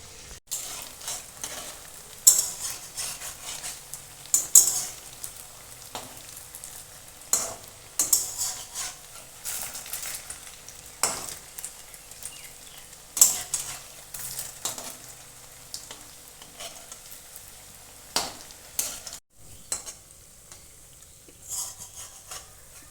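Sooji rosh bora fritters frying in hot white oil in a kadai, with a steady close sizzle. Scattered sharp clinks and scrapes of a utensil against the pan run throughout.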